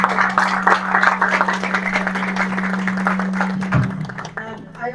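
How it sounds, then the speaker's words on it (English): Conference audience at a heart failure talk applauding, a steady wash of many hands clapping over a low hum, fading toward the end as a voice begins. "So a big round of applause for us."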